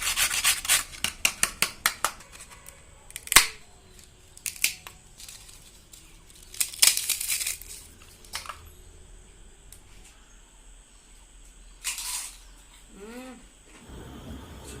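Crispy deep-fried flour papad being broken and crunched up close: a rapid run of brittle snaps first, then scattered louder crackles and crumbling rustles separated by quiet pauses.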